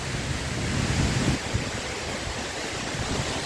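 Kirindi Ella, a 116-metre waterfall in Sri Lanka, roars as a steady broadband rush of falling water, continuous and fairly loud throughout with no voices.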